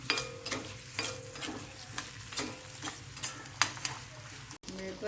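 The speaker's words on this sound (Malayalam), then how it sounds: "നമ്മുടെ വെളിച്ചെണ്ണ ഒഴിച്ച് ചൂടായിട്ടുണ്ട് ഞാൻ ഈ കപ്പങ്ങ കുറേശ്ശെ ഇട്ട് വറുത്തെടുക്കാൻ" Pieces of raw papaya fry in hot coconut oil with a constant close sizzle, punctuated by rhythmic stirring scrapes about twice a second.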